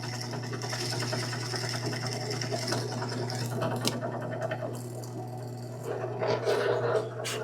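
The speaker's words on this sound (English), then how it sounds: "We've got our jigsaw right here." A jigsaw cuts through a wooden workpiece with a steady, close buzzing rattle that runs the whole time, its pitch and grit shifting briefly toward the end as the blade bites.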